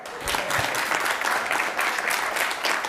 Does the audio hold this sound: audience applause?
yes